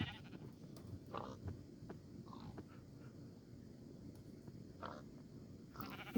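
Faint, brief sheep bleats in Minecraft, a few short calls scattered over a soft, steady background.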